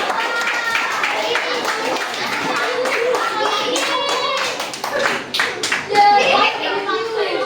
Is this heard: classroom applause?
yes